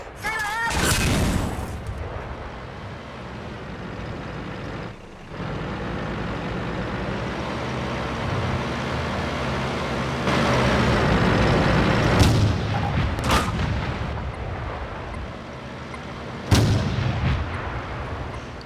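Tank cannon shots in a tank battle video game: heavy booming blasts, several spaced out over the stretch, with a constant engine rumble and loud battle noise between them.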